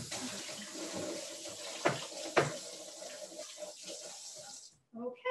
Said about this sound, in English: rinse the spoon.